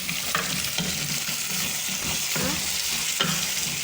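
Tomatoes cooking in a pot for pilau give a continuous, fairly loud sizzle with occasional faint stirring knocks, heard close and alone without speech.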